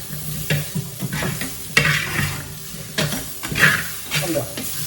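Vegetables for a mixed vegetable sambar being roasted and stirred in a pan, with close scraping strokes and a steady frying sizzle running throughout, and a few louder stirring scrapes recurring at a regular rhythm.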